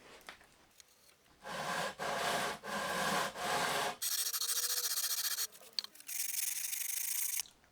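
A sanding bar rubs back and forth over stainless steel guitar frets in several rasping strokes, close and fairly quiet, with short pauses between passes.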